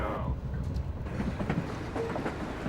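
A luxury passenger train runs along the rails on the way to Cedar City, Utah, giving a moderate rumbling roll with faint rhythmic wheel clicks and no talk.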